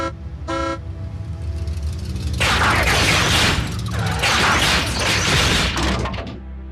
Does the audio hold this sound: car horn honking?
yes